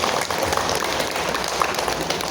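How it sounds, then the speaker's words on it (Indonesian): A crowd at a community board inauguration ceremony applauding, with dense, continuous clapping of steady strength throughout and a faint murmur of voices underneath. "Tepuk tangan."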